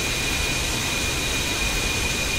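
A jet aircraft taxis before takeoff in the DCS World combat flight simulator, its engine a loud, constant whining roar with a high steady tone and no change in intensity.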